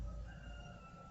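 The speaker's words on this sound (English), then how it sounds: "these damn roosters just going nuts" A rooster crows in the distance, a faint, drawn-out call over a low rumbling background.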